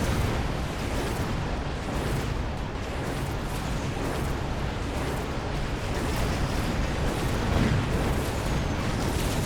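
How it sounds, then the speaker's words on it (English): Orbital bombardment striking in the Mechabellum strategy game, a dense, continuous roar of overlapping explosions and booms that holds at a steady level throughout, with no talking over it. "this is when I realised that orbital bombardment can hit the flyers"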